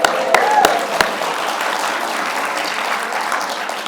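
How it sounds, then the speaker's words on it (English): An audience claps a round of applause at a public talk by the Washington State Treasurer: dense, continuous clapping that opens with a few sharp, loud claps, then settles into an even patter that carries on to the end. "Can we get a round of applause for that?"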